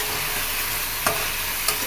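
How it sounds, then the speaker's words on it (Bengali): Pointed gourd sautéing in a pan, a steady broadband sizzle with two sharp utensil scrapes or clinks standing out near the end, close and continuous. "পটলটা কষিয়ে নিচ্ছি প্রথমে"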